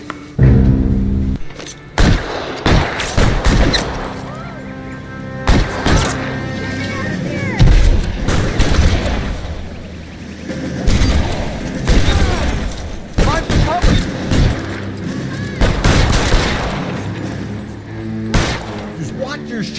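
Shootout gunfire from the video game L.A. Noire: loud, dense bursts of shots and booming impacts crowd the whole stretch, with brief lulls between volleys and voices talking over the fight.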